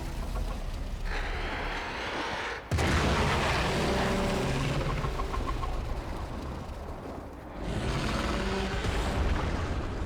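A heavy, sustained rumbling blast roars through a Warframe game scene, staying loud across the whole stretch with an abrupt surge partway in and another swell near the end.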